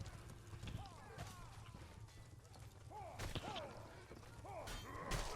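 Horse hooves clatter in a medieval multiplayer battle game during a competitive match, with uneven galloping beats running through the clip alongside clashing combat noises and bursts of fighting sounds.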